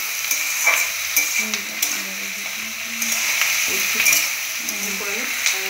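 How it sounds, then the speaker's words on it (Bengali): Chili chicken sizzles and fries in a pan while a utensil stirs and scrapes it in steady, close strokes. A continuous frying hiss runs underneath throughout. "আজকে আমার যা কি রান্না করছে দেখো, চিলি চিকেন।"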